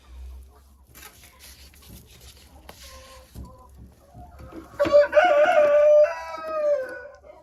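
Hens in a poultry enclosure, with soft clucks and rustling early on, then a loud drawn-out crow-like call from a bird close by, followed by quieter clucking.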